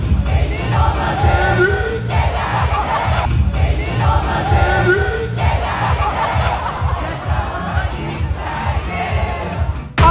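A crowd of concert-goers at an Istanbul venue sings loudly into the singer's microphone, a dense, ragged chorus of voices over a thumping rhythmic backing track, with occasional yells rising from the audience.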